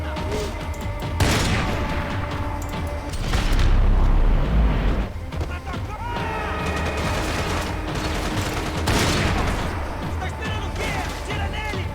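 Gunfire in the video game Max Payne 3, loud repeated shots and booms with a sniper rifle among them, set against a dense game soundscape of crashes and ambient noise throughout.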